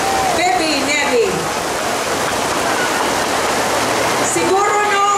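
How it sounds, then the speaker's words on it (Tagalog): Heavy rain pouring at an outdoor singing contest, a loud steady hiss of water with brief tonal voice sounds near the start and end. "Siguro no, grabe naman yun ang ulan"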